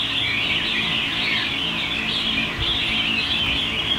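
A caged pet songbird, kept as a lively fighting-style bird, sings a continuous stream of bright chirps and trills, close and steady, with faint low background noise.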